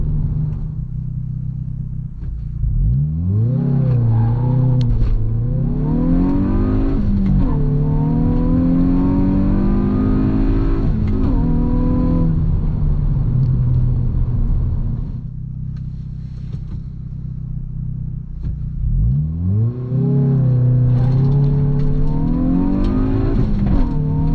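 A 2025 Hyundai i20 N pulls hard through the gears in a 0-100 run on a poor surface with some wheelspin, its engine note climbing steeply, dipping at each shift and rising again, loud and close, with a second run starting near the end.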